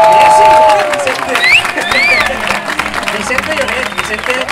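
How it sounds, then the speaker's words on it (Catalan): Audience applause for Vicente, a strong burst of clapping and cheering from a crowd, loud and sustained under a voice at the start. "un fort aplaudiment per a Vicente"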